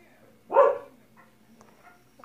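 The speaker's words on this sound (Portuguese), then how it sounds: "o cachorro começou a latir" A single dog bark rings out close and fairly loud during a Minecraft survival game, followed by quieter faint sounds and near silence.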